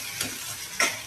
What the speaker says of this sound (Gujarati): ચમચાની મદદથી આપણે એને હલાવી લઈશું